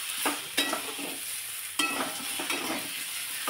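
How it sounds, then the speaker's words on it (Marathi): Chopped brinjal sautés in oil and masala, with a close, even sizzle interrupted by several loud scraping stirs of a spoon across the pan. "या मसाल्यामध्ये तेलामध्ये ही वांगी चांगली परतून घ्यायची"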